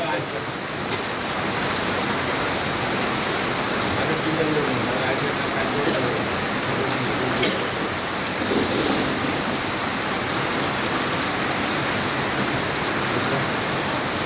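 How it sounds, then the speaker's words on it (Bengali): Heavy rain pours onto a street as people walk with umbrellas, a dense, even hiss of steady downpour close by throughout, with faint talk underneath. "দেখতেই পাচ্ছেন এত বৃষ্টি"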